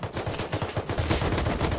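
Rapid automatic gunfire in the survival game Rust rattles continuously in dense, loud bursts throughout the short stretch, with no talking over it.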